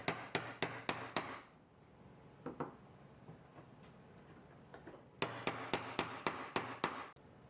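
A chisel squares up the ends of a cut in a wooden board, making crisp, evenly spaced taps in a rapid burst, a quieter pause with a few scattered knocks, then another quick run of taps.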